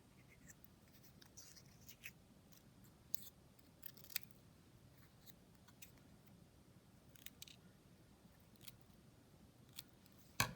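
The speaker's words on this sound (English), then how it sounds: "I'm going to cut out some little tiny squares." Scissors snip small squares from pink paper for a collage in a series of quiet, scattered crisp cuts over a soft low background hum, with no talking.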